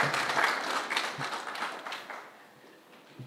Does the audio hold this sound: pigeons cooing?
no